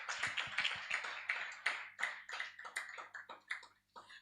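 Audience at an agricultural financing summit applauding, a burst of dense, close clapping that thins out into scattered claps over a few seconds, with no talk.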